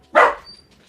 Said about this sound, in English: What is he barking at?